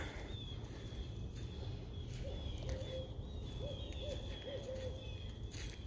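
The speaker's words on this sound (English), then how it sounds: "Ooh, I can hear an owl." A few soft owl hoots in the distance, spaced irregularly over a quiet outdoor background with faint rustling.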